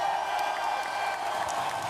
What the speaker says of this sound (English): We clapping to that.